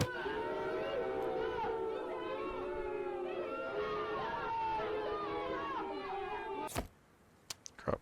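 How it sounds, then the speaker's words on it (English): Crowd booing from Arma Reforger, a video game: many voices drawn out in long wavering jeers and boos layered over one another for about seven seconds, then cutting off to near silence broken by a few sharp clicks. "Crowd booing."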